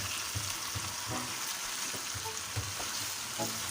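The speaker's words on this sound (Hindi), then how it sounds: "तो ये देखें इसे मैं मिक्स कर रही हूँ।" Chicken and tinda curry sizzles steadily in a pan as it is mixed, a dense close frying hiss with soft intermittent scrapes and stirring knocks underneath.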